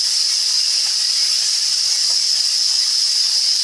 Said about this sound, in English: so now we're just going to get these sauteing up